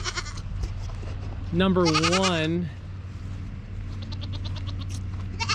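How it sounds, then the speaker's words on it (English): A goat kid in a goat shed lets out one long, loud, quavering bleat lasting about a second, over a steady low hum, with someone speaking before and after it. "It's only appropriate that we have loud goat kids yelling in this video."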